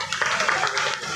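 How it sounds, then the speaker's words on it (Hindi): Audience applause at a political party gathering in Dayalpur, Delhi, a brief burst of many hands clapping together, fairly close and steady, with a faint voice underneath. "दें जोरदार तालियों के साथ।"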